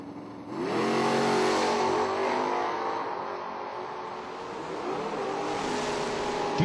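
Drag race cars, among them a Mustang, rev loudly on the strip, engines climbing and holding a strong wavering roar, then surging again near the end.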